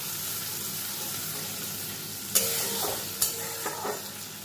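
Spice paste with a splash of water is stirred and fried over a low gas flame for a Bengali hilsa curry, giving a soft steady sizzle broken by three or four louder scraping stirs near the end.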